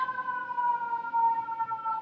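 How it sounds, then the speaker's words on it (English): Emergency vehicle siren wailing on a New York street, a steady high tone sliding slightly in pitch, loud and continuous throughout with no talk. "I'm in New York, so the sirens."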